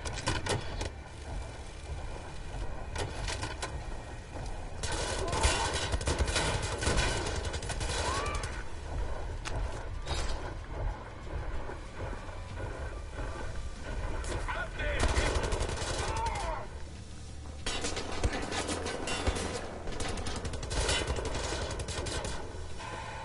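Gunfire in Wolfenstein The New Order, with repeated automatic bursts and rattling volleys coming in waves over a long stretch, fairly close and sustained, with a player occasionally talking beneath the shooting.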